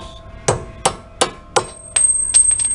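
Hammer strikes knocking a lower ball joint bolt loose on a 1997 Ford Thunderbird suspension, four sharp metallic blows at a steady pace followed by quicker, lighter taps, close and clear with no talking.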